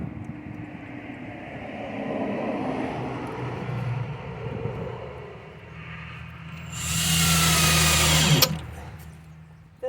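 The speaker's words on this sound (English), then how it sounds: "Now I can screw it without it forward." Screws driven into wood with a power screwdriver while building a soil screen: one loud whirring burst of about two seconds near the end, close by, over a low background hum.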